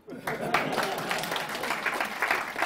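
Audience applause at a Korean lecture hall talk, a short burst of many hands clapping that starts abruptly and holds steady, with some voices mixed in.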